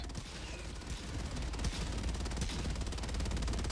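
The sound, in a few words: EMS mortar firing in the video game Helldivers 2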